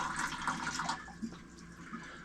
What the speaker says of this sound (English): I just wanted to catch some of the water coming off of here just to see how clear it is